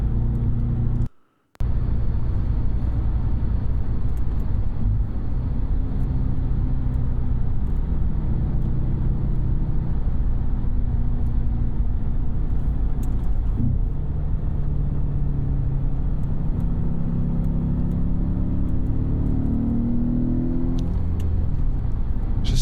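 Audi RS4 B7 with a 4.2-litre V8, manual gearbox and sport exhaust valve opened, a deep steady engine rumble with rising and falling revs, loud and continuous throughout with no talk.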